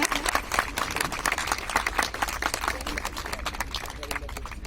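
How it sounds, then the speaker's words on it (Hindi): Dense crowd applause fills a lamp-lighting ceremony at a live power yoga program, a steady wash of many hands clapping at moderate volume from start to finish. "तो जोरदार तालियों के साथ"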